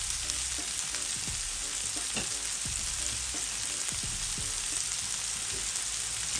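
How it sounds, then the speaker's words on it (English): Plantain slices sizzle and fry steadily in a pan as they caramelize, a continuous close hiss broken by a few scraping stirs, with no talking. "Just to make them saute them, let them get caramelized."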